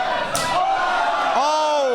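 A pro wrestling street fight: a single heavy, deep open-hand chop smacks a wrestler's chest, followed at once by loud voices and crowd noise.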